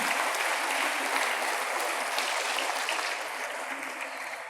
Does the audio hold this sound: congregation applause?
yes